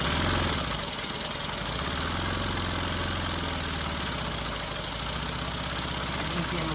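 Small engine running hard with power added, a loud, steady, buzzing drone close by that holds its pitch with little variation throughout.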